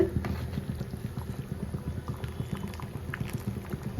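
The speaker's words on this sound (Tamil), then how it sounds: "உள்ள ஓடி இந்த குழம்பு கொதிச்சிருச்சான்னு பார்க்கலான்னு சொல்லிட்டு" Kadala (chickpea) curry boils in a pot, giving close, steady bubbling and popping in quick, uneven pulses with a faint hiss, heard alone without speech.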